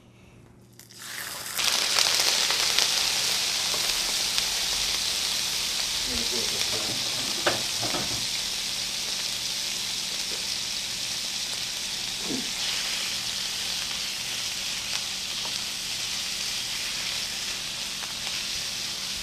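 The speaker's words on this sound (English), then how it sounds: "So I have my frying pan going already, and I have some marinated chicken." Chicken marinated in liquid smoke, garlic, onion powder, basil and oregano sizzles steadily in a hot frying pan. A loud, continuous hiss starts sharply after a quiet moment, with occasional stirring clatter.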